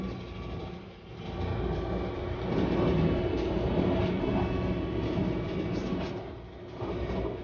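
A train rolls into Milano Centrale station, a sustained rumbling roar of wheels and cars that swells and holds steady, close and continuous with no talk.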